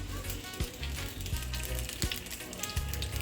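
Chopped onion fries in a little oil in a pan for creamy chicken pasta, a steady close sizzle with scattered crackles and a few soft clicks of a utensil, no talk.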